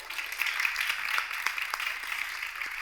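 A crowd applauds continuously, a dense patter of many hands clapping at moderate distance, steady throughout with no talking over it.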